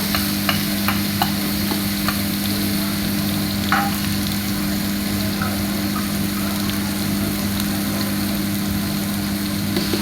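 Ginger and garlic frying with cooked tomatoes in a pot for beef biryani, giving a steady close sizzle over a constant low hum, with a few faint clinks of stirring and no talking.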